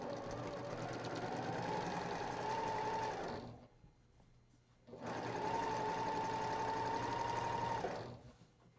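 A sewing machine stitches a quilt star block in two long, steady runs of fast, even stitching, heard close up with a short near-silent pause between them.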